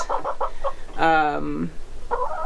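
Brown leghorn chickens on a homestead, a few soft clucks followed by a louder, drawn-out squawking call, then more clucking, close by with no talk.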